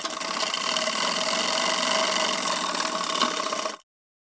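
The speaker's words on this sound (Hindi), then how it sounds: "हमें नीचे से एक सिलाई लगा लेना है इस तरीके से दोस्तों यहाँ से हम यहाँ तक पैर की सिलाई लगाते हुए लाएंगे" Sewing machine running a continuous seam up the leg of a pajama beside a side pocket, a dense steady mechanical whir that stops abruptly near the end, no speech.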